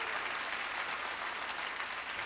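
Comedy festival audience applauding a stand-up comic, a faint, distant, even patter of clapping hands throughout, with no voices on top.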